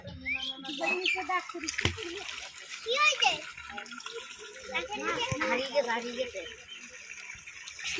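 People wade in a pond catching prawns by hand, with intermittent water splashes and sloshing under children's and adults' chatter. Birds chirp in the background.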